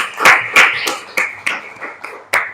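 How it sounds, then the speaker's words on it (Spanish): At a reading and debate session, a handful of separate, sharp hand claps ring out close by in an irregular rhythm, about eight in total, with brief gaps between them. "un aplauso para..."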